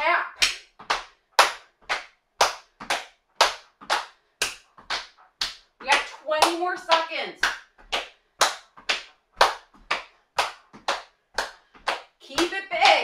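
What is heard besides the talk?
hands clapping during a workout exercise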